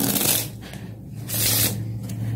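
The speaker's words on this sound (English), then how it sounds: "first I'll ask my spectator to shuffle the deck as much as he want." A deck of playing cards is shuffled by hand in two riffling bursts, close and crisp, with a brief pause between them and no talking.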